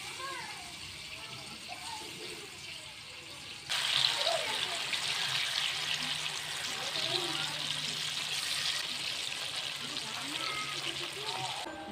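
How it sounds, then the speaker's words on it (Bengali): Dhoka, chickpea lentil cakes, dropped into hot oil, setting off a loud sudden bubbling sizzle that continues steadily, preceded by quieter kitchen sounds and faint children's voices. "ধোকাগুলো আমি এখন তেলে দিয়ে দেবো।"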